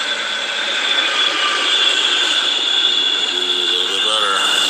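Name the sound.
Metra commuter train at Jefferson Park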